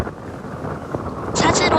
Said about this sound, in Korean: 이 살벌한 바람 소리가 들리시나요?